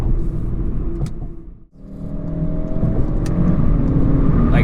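A Volkswagen MK7 Golf R engine revs on an open road, a close, full-bodied rumble that dips briefly, then climbs again into a steady, rising drone of acceleration.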